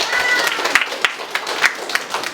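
A classroom of students in an Indonesian lesson claps together briefly, a short, close burst of uneven hand claps with distinct sharp slaps over a busy background.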